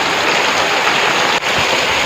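Heavy downpour in a Botad village, a dense, steady roar of rain pounding surfaces, loud and close throughout with one brief dip in intensity.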